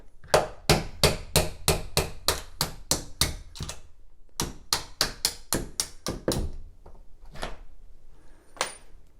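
A rapid run of close, crisp hammer taps on a nail, driving out a closet door hinge pin, a pause, then another burst of strikes tapering to a few scattered knocks.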